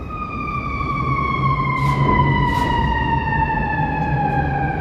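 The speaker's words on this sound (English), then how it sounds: "So the sirens went right across Columbus" Several emergency vehicle sirens wail together along a Chicago street, steady sliding tones carrying from a moderate distance over a low traffic hum, with brief hissing bursts midway.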